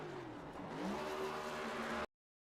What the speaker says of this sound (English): Still doing burnouts.